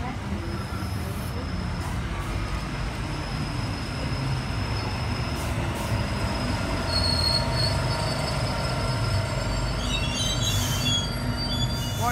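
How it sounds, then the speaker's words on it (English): A Sydney Waratah electric train, set A28, pulls into platform 1 at Guildford station. A steady low rail rumble runs throughout, with high wheel squeals and faint tonal whines building toward the end. "We have a Waratah arriving onto platform 1 for a city circle service."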